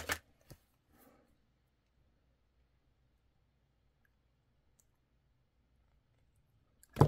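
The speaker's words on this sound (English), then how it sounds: "I'm just going to crimp that. And then we can cut that." Small pliers crimp and snip beading wire for a necklace: a few crisp clicks at the start, then a long quiet stretch before a final sharp snap, close and faint overall, no talking.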